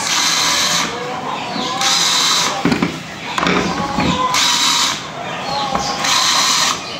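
A power drill driving screws while building a modern nipa hut, several bursts of loud, whirring motor drone a second or so long, separated by short pauses with clunks and handling noise, and a voice speaking in between.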